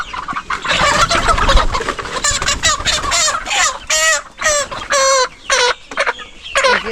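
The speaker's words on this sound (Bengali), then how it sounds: "মোটামুটি 30টা মুরগি আছে এই জায়গা।" About thirty Sonali chickens in a small farm pen cluck loudly and close, with dense overlapping chatter early, then a rhythm of separate drawn-out squawking calls with short gaps between them, and no talk.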